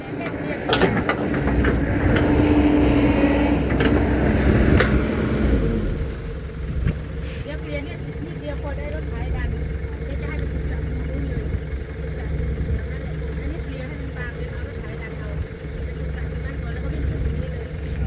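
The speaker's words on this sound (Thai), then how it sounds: "โอ้ มารถไถมาดันเลยเนาะ" A tractor engine pushes a vehicle stuck in soft, muddy ground, first as a heavy, loud mechanical rumble and then as a steady engine drone, with people talking over it throughout.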